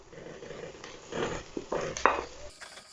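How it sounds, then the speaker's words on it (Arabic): A spoon stirs chopped beef and onions cooking in butter in a pot, giving a few soft scrapes and clinks over a quiet background sizzle, close and moderately faint. "أقلب كله مع بعضه بالشكل ده"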